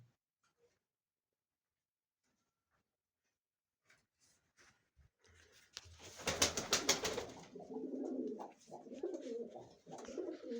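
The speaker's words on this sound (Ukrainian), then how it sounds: "Голуби." After several quiet seconds, pigeons coo softly and repeatedly at close range, preceded by a brief burst of fluttering or rustling.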